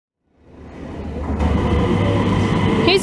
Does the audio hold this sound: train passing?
yes